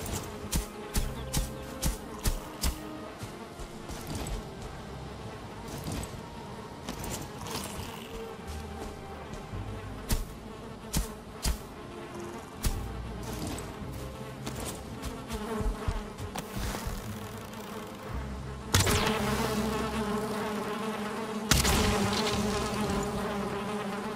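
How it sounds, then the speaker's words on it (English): Bees buzzing in the Valheim video game, a busy insect drone running steadily throughout amid scattered game clicks and effects, swelling louder near the end. "Another set of bees."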